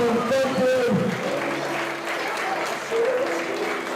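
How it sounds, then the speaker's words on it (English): An audience at a strongman championship applauds and cheers the champions on the podium, with dense continuous clapping and a few voices rising through it for the whole stretch. "One last cheer for our champions."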